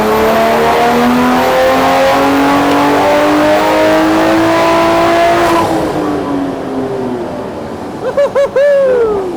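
A built Toyota Supra engine running higher boost revs loudly and climbs steadily, then lets off. A few short throttle blips and bursts follow near the end, with the car close and no one talking.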